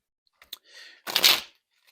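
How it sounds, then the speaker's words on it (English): Tarot cards being shuffled by hand, a short burst of riffling and flicking snaps with a brief softer rustle before it, close and alone without talk. "I'm sorry, I should have told you guys I'm shuffling."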